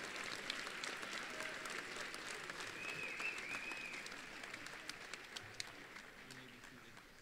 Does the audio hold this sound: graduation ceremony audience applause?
yes